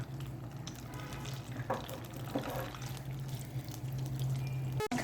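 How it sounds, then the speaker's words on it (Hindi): Butter melting into hot oil in a pan makes a soft, steady sizzle and bubbling with a low hum beneath, close and fairly quiet, with a brief clatter near the end. "साथ ही हम अब यहाँ पे ऐड कर देंगे बटर, इसको भी हम साथ मेल्ट करेंगे।"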